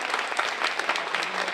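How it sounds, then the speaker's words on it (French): An audience at a poetry-market round table in Calais applauds the technicians with steady, dense clapping heard close and evenly throughout. "vous pouvez les applaudir"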